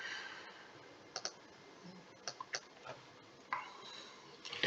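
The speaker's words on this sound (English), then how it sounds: "If we type in Maralinga," Several sparse, quiet key clicks from typing a place name on a computer keyboard, coming in short bursts with pauses in between against faint background hiss.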